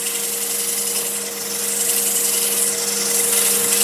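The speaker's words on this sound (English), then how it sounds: "And I can sand the inside with a small piece of sandpaper, 150 grit" Inside of a freshly turned wooden bowl being hand sanded with a small piece of 150 grit sandpaper, a steady close rubbing hiss over a constant hum of the running lathe, with no talking.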